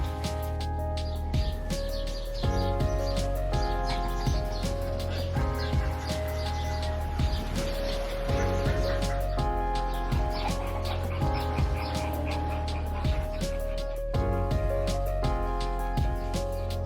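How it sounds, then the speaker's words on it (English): Many birds calling at a bird park in St Paul's Bay, Malta, a busy mix of chirps, clucks and coos overlapping throughout against steady background noise, fairly close and lively. "Such an amazing bunch of big birds."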